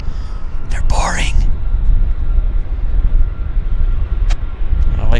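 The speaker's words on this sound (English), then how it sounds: "So here's our Minneapolis departure. Yeah, I like my aircraft loud." A loud, steady roar of an airliner departing Minneapolis-bound from Vancouver airport, engine rumble filling the air throughout, with a voice briefly talking over the noise near the start.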